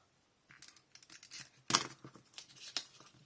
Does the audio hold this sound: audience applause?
no